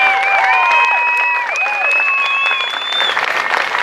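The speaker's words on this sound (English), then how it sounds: "round of applause" Audience applause at a Palestine solidarity teach-in at a university encampment, a loud, sustained wash of many hands clapping with cheers, whistles and whoops over it.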